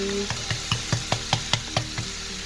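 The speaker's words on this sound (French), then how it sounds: "Là, on va laisser mijoter 10 minutes" Minced beef mixture seasoned with salt and paprika cooks in a pan, a steady low sizzle broken by about nine evenly spaced clicks or taps, close and moderately loud with no talking.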